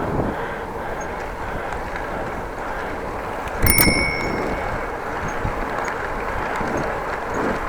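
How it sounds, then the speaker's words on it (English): A single bright ding of a bicycle bell rings out over steady rolling road and wind noise on a bike lane. "then she heard my bell"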